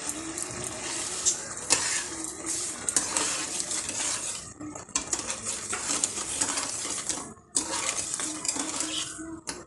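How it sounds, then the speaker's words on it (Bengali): Mango and sugar being stirred and fried in a pan until the sugar melts, with steady close scraping and clinking of a utensil against metal, a constant bright frying hiss and a few brief pauses. "এখন আমি 1-2 মিনিট ভেজে নেব, চিনিটা যাতে ভালো করে গলে যায়।"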